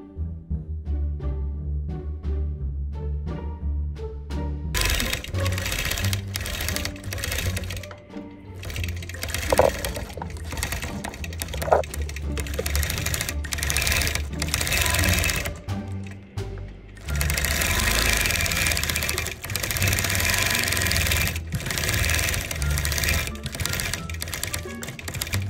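A quilting machine stitching a fabric banner with silver thread, a steady, fast mechanical chatter that pauses and restarts several times, close and continuous.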